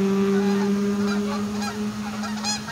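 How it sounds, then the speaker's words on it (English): Migratory geese honking as they fly in, several calls overlapping at moderate distance over a steady low background hum. "Look at them moving in. Unbelievable, right? These are not ones that have been here. Migratory birds moving."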